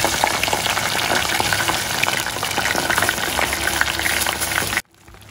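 Frozen cassava and sweet potato crisps frying in oil, a steady dense sizzle and crackle running for several seconds before cutting off abruptly near the end.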